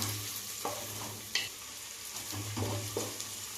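Chopped ginger, garlic and green chillies stir-fry in a pan for chicken fried rice. A soft, quiet sizzle runs under a few sharp scrapes and taps of a spatula.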